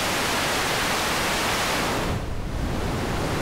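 Random walk noise from a Neutron Sound Dust of Time synthesizer, a steady broadband hiss with shifting colour, loud and continuous throughout, dipping slightly in brightness midway.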